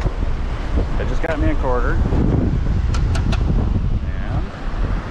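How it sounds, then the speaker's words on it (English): Heavy wind buffets the microphone with a constant low rumble on a Florida beach, while a person talks over it nearby. "But it's so windy."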